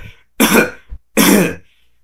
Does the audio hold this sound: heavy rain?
no